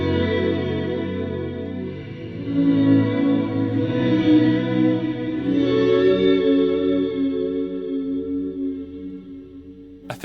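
Guitar played through a Walrus Audio Stereo Slöer reverb pedal set to square modulation mode, sustained chords swelling into a lush ambient wash with choppy on-off pulsing, steady and fairly loud with no voices.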